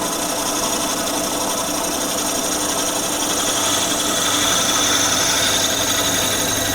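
A parabolic-flute drill bit grinds steadily into a wooden pen blank held in a vise, a loud, continuous, broadband whirring and rasping with no pauses.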